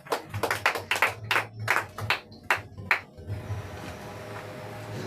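A church congregation at a Sunday service claps in a quick, rhythmic run of about a dozen sharp, close claps, then the clapping fades into room noise.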